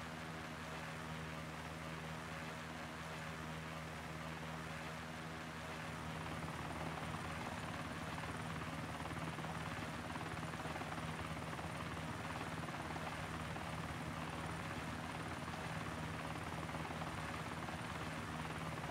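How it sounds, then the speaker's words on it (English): Helicopter in the DayZ video game on the Lingor map, a continuous loud rotor drone with steady engine hum that persists throughout without talk. "There's a heli shooting at us."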